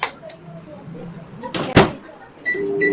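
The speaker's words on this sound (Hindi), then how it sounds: "Just put this in microwave" A microwave oven door swings shut with a short clunk, followed by a faint electronic beep.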